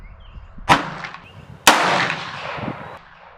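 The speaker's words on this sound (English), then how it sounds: "Load one, shoot one, and we'll check out the damage" Two sharp gunshots ring out from a .44 cartridge. The second report is louder, with a long echoing decay, and both are heard outdoors against faint background noise.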